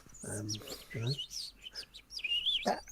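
A person whistles an imitation of a bird call, a run of chirpy, warbling tweets with rising and falling notes, close and moderately quiet, amid soft breathy sounds in a podcast setting.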